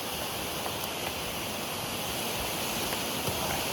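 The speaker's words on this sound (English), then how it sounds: "this is Bartram Falls" Bartram Falls, a large waterfall on the Bartram Trail, produces a soft, continuous hiss of falling water that stays even and fairly distant throughout.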